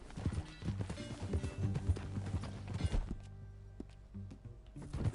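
Horse hooves clop in a quick rhythm in the Western video game Red Dead Redemption, with a brief snort and whinny, fading to a slower, sparser beat after about three seconds.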